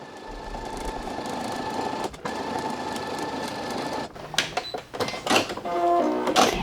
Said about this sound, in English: Now I'm going to flip it over and I'm going to top stitch the other side